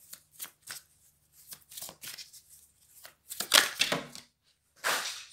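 Tarot-style cards are shuffled and cut during a card reading, giving several short riffling bursts with pauses between them, followed by a longer, louder shuffle near the end. The sound is close and there is no talking.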